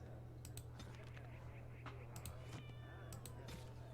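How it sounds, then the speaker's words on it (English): A cat meows a few times in a fantasy role-playing game, Dragon Age: Origins, the short calls mixed with keyboard typing and clicks over a constant low hum, fairly faint. "That was a cat."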